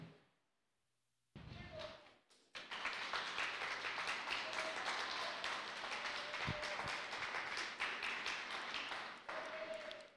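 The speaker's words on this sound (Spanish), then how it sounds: "Fuertes aplausos, por favor." Church congregation applauding loudly after a sermon, a sustained dense clapping that starts abruptly after a brief quiet pause, with a few thumps and faint voices mixed in, running steadily for several seconds.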